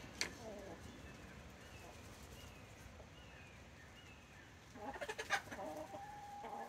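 Backyard chickens cluck around a pumpkin and the pieces pulled from it, with soft, scattered clucks at first and a louder, busier burst of clucking and calls near the end.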